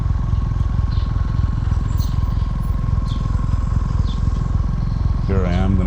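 A Kawasaki W800 motorcycle engine thumps steadily at low speed while the bike is backed up, with an even, close, pulsing rhythm throughout and someone talking over it.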